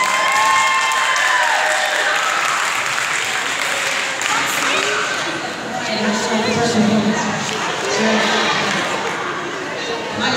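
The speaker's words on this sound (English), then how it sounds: "Give them another round of applause" Sustained applause from an audience at a school performance, loud and steady throughout, with crowd chatter and a few cheers mixed into the clapping.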